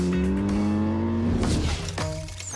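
Opel Kadett Coupé GTE sports car engine revving hard, its pitch rising steadily in a loud, close race-style pull before easing off, with tyre noise alongside and no talk.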